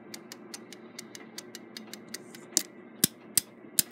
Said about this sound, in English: winding click against the ratchet, and that's what gives you the click, click, click sound when you wind a clock